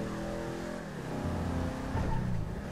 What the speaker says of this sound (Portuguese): E o som do motor.